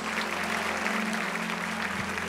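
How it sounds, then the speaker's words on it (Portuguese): Church congregation clapping during a youth worship service, a dense, steady applause that runs continuously with a sustained musical tone underneath. "Aplauda Ele, aleluia"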